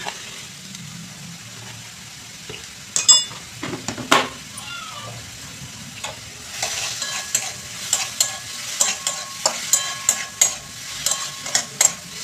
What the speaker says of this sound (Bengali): চিনিটার সাথে একটু ভালো করে একটু নাড়াচাড়া করে নিচ্ছি বন্ধুরা।